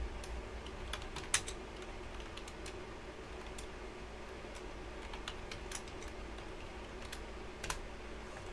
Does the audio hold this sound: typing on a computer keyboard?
yes